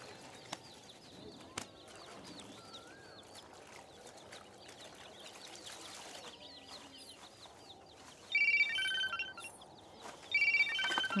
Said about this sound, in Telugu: ఫోన్ వస్తుంది వినపడ్డలా ఫోన్ వస్తుంది